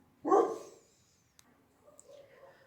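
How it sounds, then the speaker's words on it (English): A dog gives one sharp bark nearby, followed by near silence with a faint click and soft, distant sounds. "Sorry about the dogs, but they must be seeing a cat or something."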